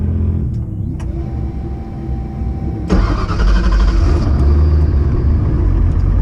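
A street car launches hard under boost on a test run across a street-style surface, its engine rising from a low idle rumble into a loud, sustained, close roar that stays strong to the end.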